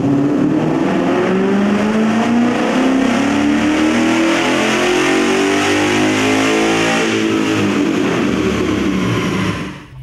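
A 2015–2017 Mustang GT 5.0L V8 fitted with stainless long tube headers makes a dyno pull in fourth gear, roaring loud and close as the revs climb steadily for about ten seconds before cutting off abruptly at the end.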